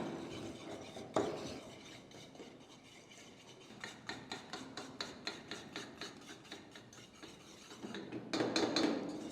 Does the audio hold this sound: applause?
no